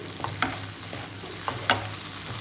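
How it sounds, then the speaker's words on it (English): Roasted okra is stirred into sizzling masala in a pan, a steady frying hiss with a few sharp scrapes of the spoon, close and without talk. "The final step will be putting the roasted bhindi. Mix this well."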